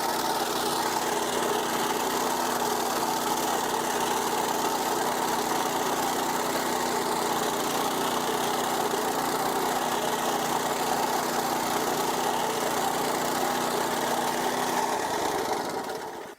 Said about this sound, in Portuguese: nós compramos essa ceifadeira que vem na frente dele para cortar o capim